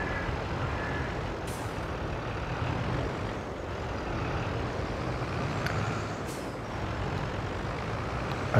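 Diesel truck engine in the Farming Simulator 22 game on PS5, idling steadily at an Ohio farm with a trailer hitched, a low continuous rumble with brief hissing bursts like air brakes.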